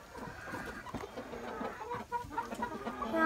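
Chickens cluck in a coop with a roost, several hens giving short overlapping clucks and squawks close by, with no talk over them.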